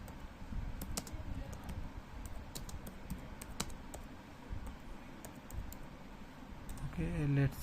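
Irregular keystrokes on a computer keyboard, light clicks scattered over a quiet room tone, with a brief voice near the end.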